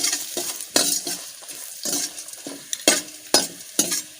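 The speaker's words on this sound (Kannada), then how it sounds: "ಇವಾಗ ಅದನ್ನು ಕೂಡ ಹಾಕಿಕೊಂಡು ಚೆನ್ನಾಗಿ ಫ್ರೈ ಮಾಡಿಕೊಳ್ಳುವ" Dried red chillies and coriander seeds fry in a pan for Mangalorean masala avalakki, giving a bright crackling sizzle broken by repeated loud scrapes and stirs of a spatula against the pan, close up and with no talk.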